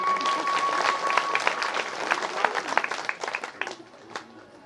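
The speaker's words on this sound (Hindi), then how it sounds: "इन मैयाओं के लिए जोरदार ताली बजाओ भैया पुरुष वर्ग की।" Men in the audience at a Hindu religious discourse (Shrimad Bhagwat Katha) applaud, a burst of steady clapping that thins into scattered claps and fades out.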